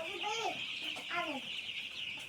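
Chicken clucking nearby in two short bursts of rising and falling calls, with a steady high hiss running underneath; no talk.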